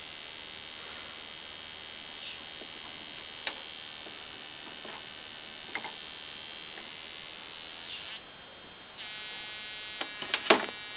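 A Jaycar ignition coil driver drives a flyback transformer, giving off a steady high-pitched electrical whine and buzz, with a few faint sharp clicks and a louder crackling burst near the end.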